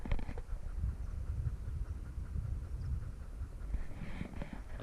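A dog pants loudly and rhythmically outdoors on a wild camping trip in the Cheviot hills. The heavy, chugging breaths sound like a train and continue steadily with no talk.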